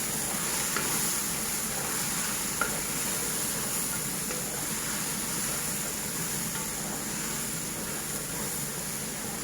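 Shark pieces with spices frying in a pan, a steady loud sizzle and hiss with faint stirring scrapes underneath, no talking.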